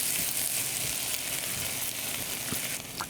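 Grated ginger sizzles and crackles as it fries in hot ghee, a bright continuous hiss with small pops and stirring scrapes, close and steady, with no talk.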